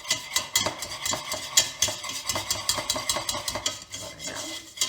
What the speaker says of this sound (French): Là, on va simplement mélanger